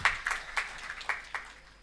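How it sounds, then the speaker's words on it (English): A faint round of applause from an audience at a B.Tech batch inauguration, a handful of separate claps spaced out and fading over under two seconds. "Let's give a round of applause for it."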